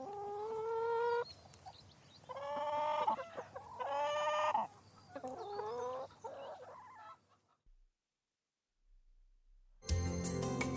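Chickens cluck and squawk in a series of loud, close calls, then fall briefly silent before another burst of clucking starts up.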